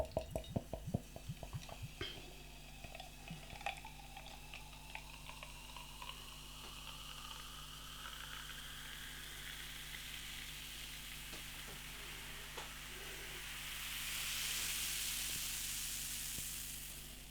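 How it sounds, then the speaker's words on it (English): Smoked porter brewed with chillies and oak fizzes softly as it is poured, giving a faint, steady crackle of carbonation with a few small drips at the start and a rising pour near the end. "you can hear the crackle of carbonation"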